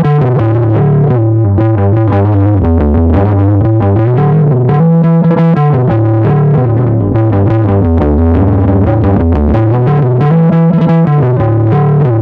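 Short-scale bass guitar played through distortion and chorus effects, a loud continuous run of thick, fuzzy notes with a shimmering warble, no voices.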